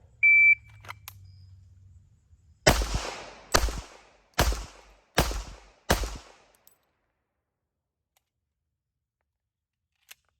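After a short electronic timer beep, a pistol drawn from a holster fires five loud, sharp shots at a steady pace about a second apart on a timed course of fire, followed by near silence.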